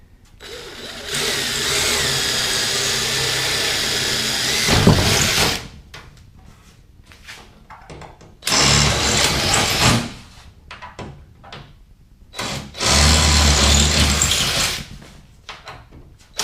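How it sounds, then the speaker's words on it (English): A power drill bores holes in the hull of a Tracker Deep V boat in three loud whirring bursts, the first lasting several seconds and the next two shorter, with quieter gaps between them. "We'll go ahead and drill the rest of my holes here."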